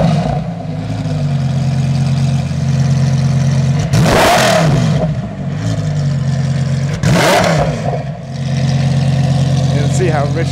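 A Lamborghini Huracan Super Trofeo Evo 2 race car engine idles with a steady low rumble, then is revved hard twice in sharp, loud bursts, close by.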